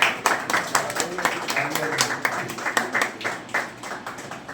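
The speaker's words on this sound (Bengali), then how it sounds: "সবাই একটা জোরে হাততালি দেবেন।" Applause from an audience at a second-anniversary celebration event comes as a run of quick, uneven claps, close and moderately loud, with voices talking throughout.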